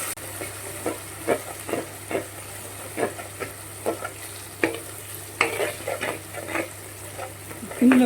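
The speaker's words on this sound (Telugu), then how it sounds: "బాగా ఫ్రై చేద్దాము. ఇది బాగా వేగాలి." Ginger garlic paste sizzles in a pan for tomato pulao, a soft constant fry hiss broken by repeated scrapes and clicks of a large spoon stirring in an irregular rhythm, close and fairly quiet.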